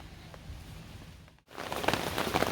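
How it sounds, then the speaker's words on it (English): Steady rain during an evening thunderstorm at Pymatuning State Park, a soft continuous patter that dips briefly, then returns louder and denser. "it's getting very dark out, and it's finally started to rain."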